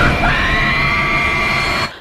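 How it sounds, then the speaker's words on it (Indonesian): A woman screams in fear in a 2010 Indonesian pocong horror film, one loud sustained shriek lasting nearly two seconds before cutting off abruptly, with no talk over it. "Lalu dia melihat pocong di belakangnya dan dia teriak ketakutan."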